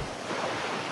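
A steady roar of rushing river rapids fills the whole moment, loud, close and continuous, with no voices.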